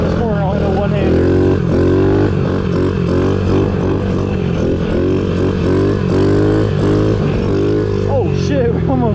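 A Honda CRF50 big bore dirt bike running on jet fuel roars loudly and close as it is ridden, its engine note rising and falling with throttle changes under some talking.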